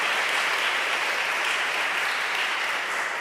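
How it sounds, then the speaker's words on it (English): Steady round of applause from a crowd at an annual meeting, dense and even at close range throughout with no voices breaking through. "Please join me in a round of applause"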